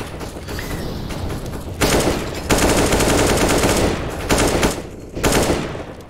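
Bursts of rapid gunfire from a Counter-Strike match on the Inferno map, loud and close, with several sustained volleys separated by short pauses.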